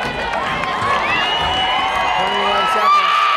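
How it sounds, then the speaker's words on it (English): A high school football crowd, home side the Mustangs, cheers and whoops as the team wins the game, a dense roar of many voices with excited shouts rising throughout. "the crowd went wild"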